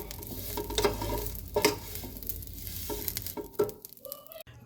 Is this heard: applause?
no